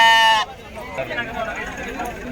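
A single sheep bleats loudly and close for about half a second at a crowded sheep market in Kashti, followed by background crowd babble and voices.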